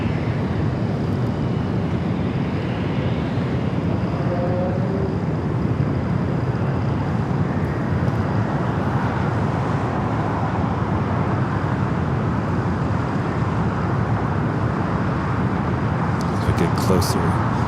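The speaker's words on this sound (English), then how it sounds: "there she is, Singapore. Flight 36, the first of two A350-900s coming from Singapore." A Singapore Airlines Airbus A350-900 arrives at LAX. A steady, broad jet roar holds throughout at moderate distance, mixed with airport traffic rumble, while voices talk over it.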